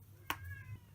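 A cat gives a short, bright meow, followed by a quieter second call, over a low steady hum.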